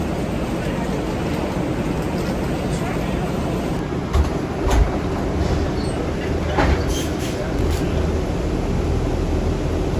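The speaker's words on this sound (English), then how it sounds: "We're on an airport shuttle." An airport shuttle train ride gives a steady, loud rumble of rolling rail wheels with a broad roar, a few brief clanks and squeals mid-ride, and no talking.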